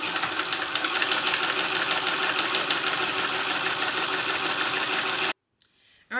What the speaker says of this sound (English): And we're just sewing right on top of that line.